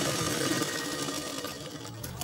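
A sewing machine runs steadily, stitching a sleeve onto a garment, a continuous close whirring hum with even loudness and no talk.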